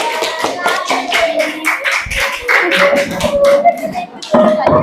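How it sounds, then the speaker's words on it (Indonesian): Schoolchildren in a classroom clapping for a presenting group, a burst of brisk, uneven hand claps from nearby, with children's voices chattering over and between the claps. "Tepuk tangan buat kelompok 1."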